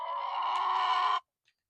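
A single drawn-out crow or call from a farmyard rooster rings out close and clear for about a second, then stops abruptly into silence.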